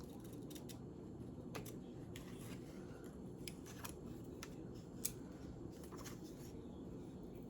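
Scissors snip through paper to cut out a paper bat shape for a Halloween journal, giving a series of faint, crisp, irregular cuts over a quiet, steady room hush.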